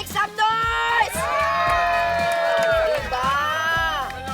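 A live crowd at a party event in Quezon City cheers and shouts loudly, with high whoops and screams rising and swelling over a constant roar, close and energetic.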